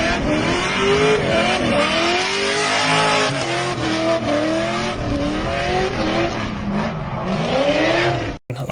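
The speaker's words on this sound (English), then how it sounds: "these things are bouncing off the rev limiter quite often" LS V8-swapped Nissan 240SX drift car screaming near its rev limiter, loud and close, with a sustained high-revving engine note that rises and falls repeatedly over tire noise and ends abruptly.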